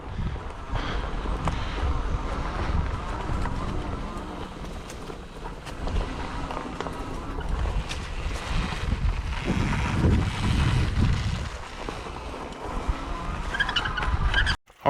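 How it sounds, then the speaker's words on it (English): A fat tire electric bike rides off-road on rough ground, with a steady, loud rush of wind buffeting and tire rumble throughout that cuts off abruptly at the end. "let's go off-road a little bit. And this is a fat tire bike."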